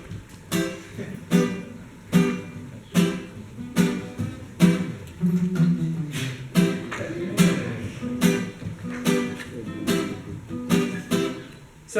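Reggae rhythm guitar chops out sharp, evenly spaced offbeat strums over a bass-heavy band groove, each stab loud and clipped with steady rhythm across the whole passage.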